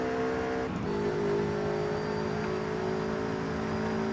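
A car engine hums steadily at high revs in the racing video game Forza Horizon 5, a continuous tonal drone with a brief shift in pitch near the start, running alone without talk.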